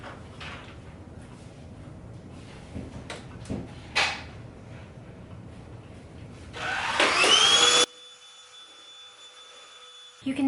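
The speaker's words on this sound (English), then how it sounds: "I'm gonna vacuum again and then work on something else." A household vacuum cleaner starts up indoors, a loud steady whir with a rising whine that runs a few seconds, then cuts off abruptly, after scattered quieter handling knocks and a sharp clatter.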